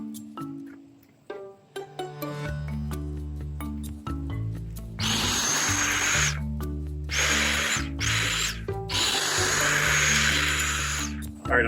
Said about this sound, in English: then I'll go over it with the tiller